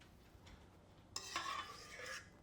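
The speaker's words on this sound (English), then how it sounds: "give that one more little mix" A spoon mixes carrot cake cookie batter in a bowl, faint at first, then a louder scraping, stirring swirl near the end, with no voices.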